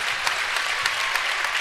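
Applause from a crowd in a high school basketball gym as a senior player checks out of the game: steady, dense clapping throughout, fairly close and loud.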